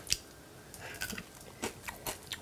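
A fried scorpion is chewed up close, with sharp crunchy bites spaced irregularly between quiet pauses and no talking.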